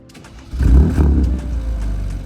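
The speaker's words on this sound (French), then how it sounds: "on va écouter les clapets fermés de ce beau V6" A Mercedes C350 V6 3.5 L with its exhaust valves closed revs up close, a deep muffled surge swelling to a loud peak and then holding a lower sustained drone.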